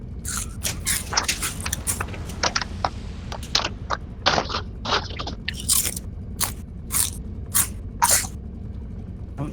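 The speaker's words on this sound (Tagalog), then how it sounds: "Oh, ba't nanguya ka dyan?" Someone chewing and crunching food close to the mic, a rapid irregular series of crisp bites and crunches over a low hum, with no talk.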